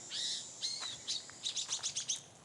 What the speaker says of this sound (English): Got a pretty little Tweety bird